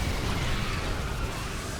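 A Terran orbital command is destroyed in StarCraft 2, a loud dense rumbling burst of explosion noise that fills the whole short moment without a break.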